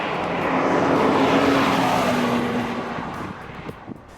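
Porsche 986S Boxster race car running on a track, a loud sustained engine drone with a steady tone that holds for about three seconds, then fades slightly as it recedes, with no talking.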